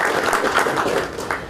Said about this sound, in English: really everyone please give yourselves a round of applause first and foremost